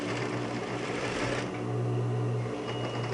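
A sewing machine stitching fabric, a close, steady mechanical whir with a brief pause and restart in the middle, running on its own without talk.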